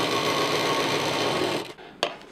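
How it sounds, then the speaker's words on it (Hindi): A sewing machine stitching a homemade backpack runs in a loud, steady, close-up whir for about a second and a half, then stops, followed by a couple of short handling clicks. "इसको लगाने के बाद अब इसको हम सिल देंगे।"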